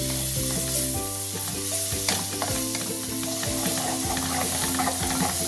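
Garlic sizzling in cooking butter in a pan for beef calderita, a constant close, crackling fry with scattered spatula stirs and scrapes, no talk.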